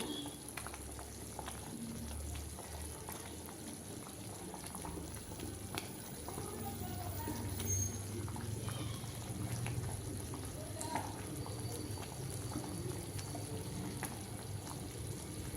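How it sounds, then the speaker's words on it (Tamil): Wheat halva bubbles softly in ghee in a pan while it is stirred continuously, a low, steady simmering crackle that stays faint and close throughout with no clear voices. "வந்து கை விடாமல் கிண்டிகிட்டே இருக்கணும்"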